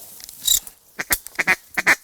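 A duck quacks outdoors in a series of short nasal calls, loud and close, coming in quick bursts with brief gaps between them.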